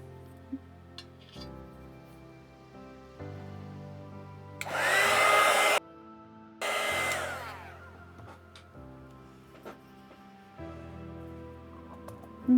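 A hair dryer drying paint on a thrifted platter, switched on in two separate bursts of a couple of seconds each with a short gap between them, loud and close, with quiet clinks of objects around it.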